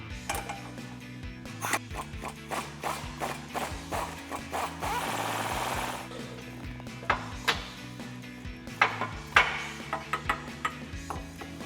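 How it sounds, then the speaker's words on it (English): Impact wrench with a 21mm socket on a swivel extension loosening the track bar mount bolt on a Jeep Gladiator JT, heard as repeated close mechanical rattling bursts with a longer continuous hammering stretch midway. "We're going to be using a 21mm socket, swivel socket extension, and an impact."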